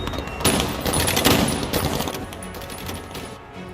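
Gunfire from the Cuban military in battle, a dense, continuous roar of rapid shots with sharp bursts peaking around the middle, loud and chaotic with no speech.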